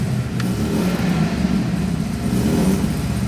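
Alfa Romeo 75 1.6 IE engine revving, heard from behind the car, a steady loud mid-pitched exhaust drone that rises and holds under throttle, close and alone without speech.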